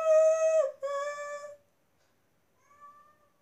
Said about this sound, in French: C'est quoi ce bruit qu'il a fait mon chat?